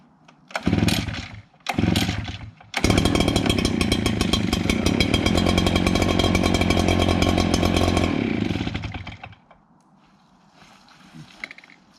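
An Echo PB770 or PB8010 backpack leaf blower is being started: two short bursts, then a loud, steady two-stroke engine roar that runs for several seconds up close before winding down and cutting to quiet.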